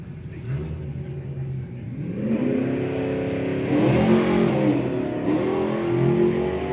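A drag racing car driven by Russ revs hard at a Mopar Euro Nationals event, its engine surging, briefly easing off, then climbing back to a loud sustained roar close by.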